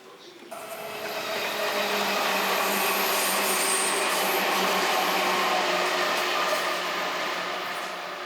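A passenger train runs through the mountains of Yamanashi Prefecture in Japan, giving off a steady, loud rumble and hiss of rail travel with no voices over it.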